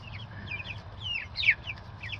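A flock of chickens clucks and chirps softly while eating from a tiered feeder, with rapid overlapping calls over a low background hum.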